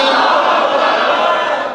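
At a religious gathering, a large crowd roars back a loud chant in unison in answer to a slogan, dense massed voices sustained for a moment before easing off.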